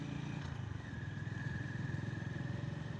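A Honda GB350S single-cylinder motorcycle with an aftermarket air filter riding in third gear at 30 mph, giving a steady low, throbbing engine thump with rapid, even pulses and a faint whine, close and continuous.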